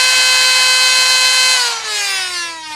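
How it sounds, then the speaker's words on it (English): Flywheels of a modded Nerf Rapidstrike blaster spin at a loud, high steady whine, then drop in pitch as they spin down, close by and alone without speech. "when I rev the blaster"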